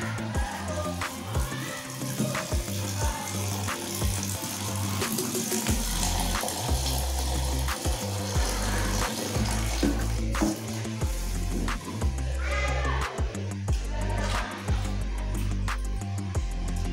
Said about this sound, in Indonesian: Selanjutnya kita masukkan air ke dalam akuarium pelan-pelan biar pasirnya tidak berantakan.